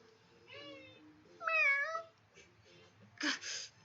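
Cat meowing in a Japanese visual novel scene, several drawn-out meows with rising and falling pitch, close and clear, likely voiced by an actor imitating a cat.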